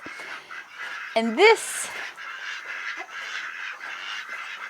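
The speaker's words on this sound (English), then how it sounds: "we've got ducks and we've got chickens" Ducks kept alongside chickens at a rural Kuranda, Queensland property give a short burst of honking quacks close by, then fowl calls continue faintly under a man's speech.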